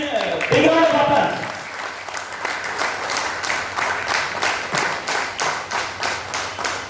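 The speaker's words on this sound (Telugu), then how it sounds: "give big round of applause" Audience applause at a business presentation for a company launch, a dense patter of clapping that swells early then settles into a steady, moderately loud run, with a voice speaking over the start.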